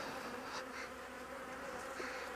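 Honeybees buzz steadily around a hive frame held out of the colony, a close, continuous drone with no voices.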